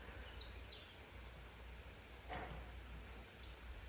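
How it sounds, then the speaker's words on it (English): A couple of quick, thin bird chirps sound early over a soft outdoor hiss in a garden on Lake Como, then another faint call later; quiet and sparse. "Can you hear the birds?"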